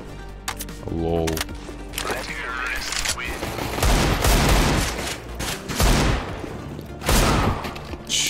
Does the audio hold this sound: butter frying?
no